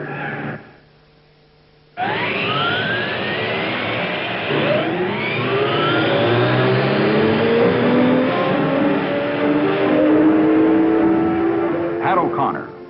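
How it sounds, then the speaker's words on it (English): Race car engines start up and rev for the 1957 Indianapolis 500, a loud roaring chorus of many cars with rising and falling pitches, opened by a brief spoken command. "Gentlemen, start your engines."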